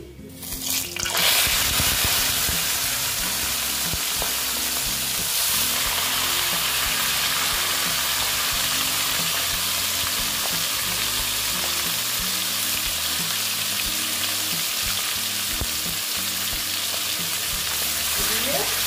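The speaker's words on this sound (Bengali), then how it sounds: "তারপর আমি মাংসগুলো দিয়ে দিচ্ছি।" Chicken pieces hitting a hot pan with garam masala and spices, bursting into a loud sustained sizzle that holds steady for many seconds, with faint scrapes and taps of stirring underneath.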